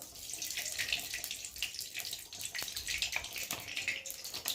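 Mustard oil with some water mixed in crackles and spits in a hot kadai, a dense, steady hiss of rapid pops heard close up with no talking.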